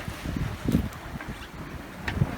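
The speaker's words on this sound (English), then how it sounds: "And we are sailing against the wind." Wind buffets the microphone aboard a sailboat sailing upwind at about six knots, giving a steady low rumble with gusty swells and a faint water wash underneath; no one speaks.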